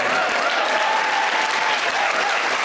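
A studio audience claps steadily at the close of a radio panel game show, a dense even wave of applause with faint voices under it.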